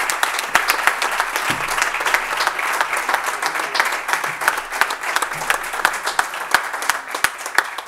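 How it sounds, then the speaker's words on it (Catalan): An audience at a communication awards night gives a loud, sustained round of applause, with dense clapping and a few sharper claps standing out throughout. "La rebem amb un fort aplaudiment."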